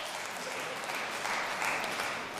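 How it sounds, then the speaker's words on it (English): A debate audience claps in a brief, dense, steady burst of applause lasting a couple of seconds, fairly loud and filling the room with no one speaking over it. "You're going to clap that? Who clapped that?"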